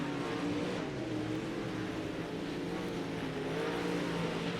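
Steel Block Late Model race cars roar around the oval at Fairbury Speedway, a dense, continuous engine drone with layered harmonic whine as the pack races together, loud and steady throughout.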